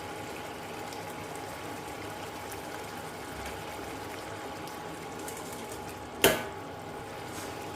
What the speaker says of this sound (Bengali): মশলাটা ভালো করে ফুটে গেছে।